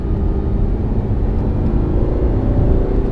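Audi R8 driving at night, heard from inside the cabin as a steady, loud engine and road drone with constant low rumble, no talk.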